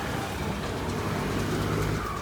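A Suzuki LS125 motorcycle engine revs in place, a continuous loud rumbling drone that holds steady throughout with no voices.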